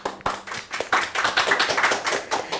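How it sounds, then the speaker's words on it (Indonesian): Close, sharp hand clapping from a small group during a Sundanese podcast, with uneven individual claps merging into brief applause that runs the whole time. "Tepuk tangan."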